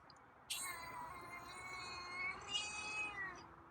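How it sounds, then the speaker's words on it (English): A cat gives a long, drawn-out meow that ends in a raspy, scratchy tone, heard close and alone. "interesting meow. Kind of long, but it had a raspy end to it."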